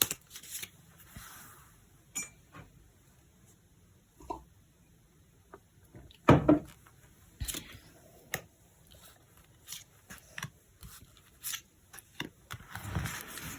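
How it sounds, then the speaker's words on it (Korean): Tarot cards shuffled by hand in a quiet room, a sparse series of soft flicks and taps over several seconds with one louder slap of the deck, close and alone without speech. "카드 셔플 해보도록 하겠습니다"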